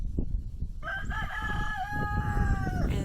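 Escaped roosters crowing outdoors, one long clear cock-a-doodle-doo rising over soft background rustle and a few brief clucks, fairly close and alone without talk.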